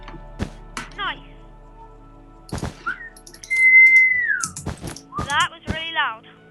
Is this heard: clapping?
no